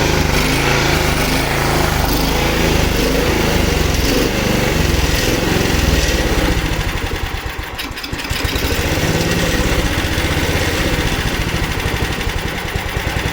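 A previously seized Honda lawn mower engine, smoky and running with its idle not set, gives a loud, close, continuous buzzing drone that dips briefly near the middle before steadying again.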